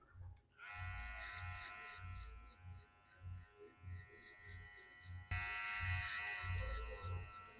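Electric hair clipper buzzing steadily while cutting a high fade at 0.8 mm, with a close, continuous motor drone that pulses as the blade passes through hair, growing louder toward the end.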